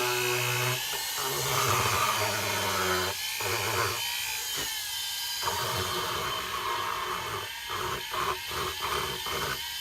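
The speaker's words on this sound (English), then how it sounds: "we're going to just try to grind out the eyes" A Foredom rotary tool, run with a foot pedal, grinding out the eyes of a carved fish, a close, high-pitched whine that cuts in and out in short bursts with stuttering pauses, and no talking.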